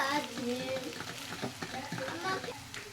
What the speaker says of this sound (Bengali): এবারে আমি নাড়াচাড়া করে নেব ভালো করে